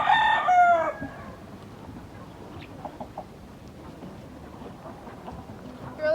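A rooster crows loudly at the start, then softer scattered clucks and chirps from chickens nearby, with another crow beginning at the end.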